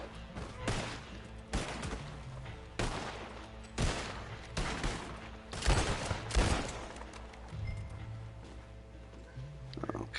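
Rapid bursts of gunfire from a PS4 shooter game, dense fusillade-like volleys and single cracks repeating across the whole stretch, loud and close with a rumbling low end, no talk over it.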